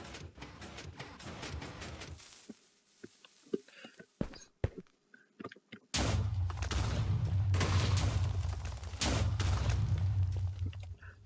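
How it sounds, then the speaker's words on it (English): Minecraft TNT blast set off by an observer on a flying machine: after a quiet stretch of scattered clicks, a loud, dense rumbling explosion erupts and sustains for several seconds, with a second heavy burst following. "this TNT gets hit by this observer, the whole thing should explode"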